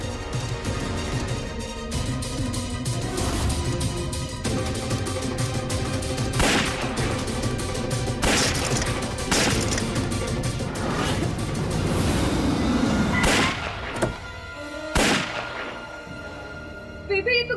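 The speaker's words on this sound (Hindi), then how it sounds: "शॉट्स की आवाज लग रही है।" Gunfire in a TV drama scene: several sharp shots burst over a dense, loud dramatic soundtrack, with muffled voices underneath throughout.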